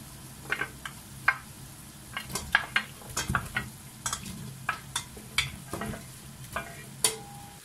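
Vegetables added to a frying tomato-and-oil sauce base for Tunisian winter couscous: close sizzling with repeated stirring scrapes and light clinks of a utensil against the pot, no talking.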